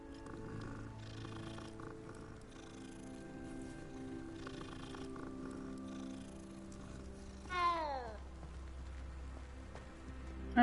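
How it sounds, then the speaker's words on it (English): A petted cat purrs in Hogwarts Legacy, a soft steady rumble under sustained game music, followed by a descending musical flourish near the end. "Pet the cat."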